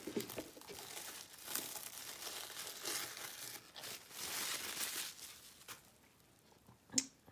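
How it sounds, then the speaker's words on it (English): Plastic film is peeled off a form, a close, quiet crinkling and tearing that rises and falls irregularly, ending with a sharp crackle. "Peel the plastic off here."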